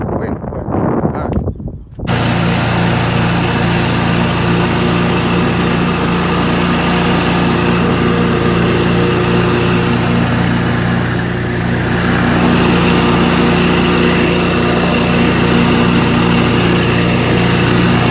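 A lawn mower engine drones loudly and steadily while cutting grass, starting after a brief rustle and running close and unbroken to the end.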